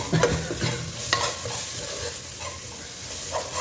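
Fish curry frying in a pan while being stirred, with a steady close sizzle and a few scraping stirs near the start, continuous and fairly loud.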